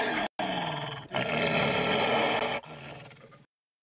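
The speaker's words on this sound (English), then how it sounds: "The wolf growled and snarled." A large gray wolf growls and snarls in the Lassie PC game, a loud, sustained, rough roar that breaks off briefly and resumes before cutting to silence, with no speech.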